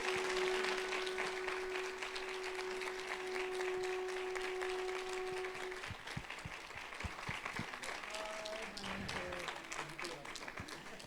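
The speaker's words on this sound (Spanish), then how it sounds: "Pues un aplauso fuerte," An audience applauding author David Huerta at the FILEM 2021 book fair, a dense wash of clapping fairly loud and steady, thinning into scattered claps near the end as a tone fades out.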